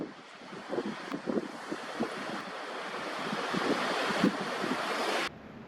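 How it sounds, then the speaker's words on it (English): Strong wind buffets the microphone outdoors in the Kaweka Range in a steady, roaring wash of noise that swells and gusts, cutting off abruptly at the end. "Hopefully this wind buggers off."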